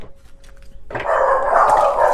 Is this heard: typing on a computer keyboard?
no